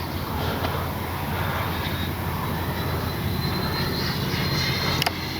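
A Freewing 90mm 6S Zeus RC jet passes at high speed, a steady loud rushing whine of the electric ducted fan with wind noise, holding constant through the pass.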